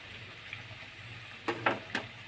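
Oil sizzles faintly in a pan, a soft steady hiss with three brief louder crackles near the end.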